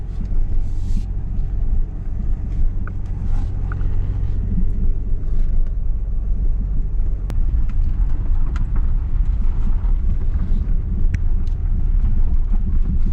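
A Ford Falcon XE with a carburetor issue, engine floored, gives a steady loud low rumble with road and wind noise heard from inside the moving car.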